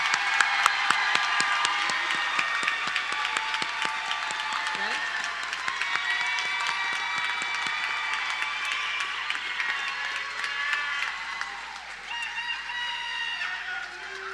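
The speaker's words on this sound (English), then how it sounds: "Let's have one more round of applause for our class of 2025." Graduation ceremony audience gives a sustained round of applause for the class of 2025, dense clapping filling the room with cheering and whoops on top, a voice briefly speaking at the start.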